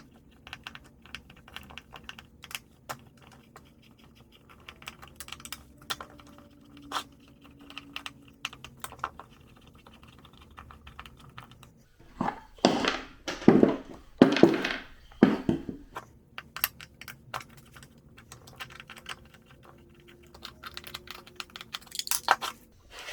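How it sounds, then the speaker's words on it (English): Crankcase bolts come out of a Stihl 028 AV Super chainsaw being rebuilt: scattered light clicks and taps of a tool on metal, then a cluster of sharper ratcheting clatters midway, close and fairly quiet. "now I'm going to take the case bolts out."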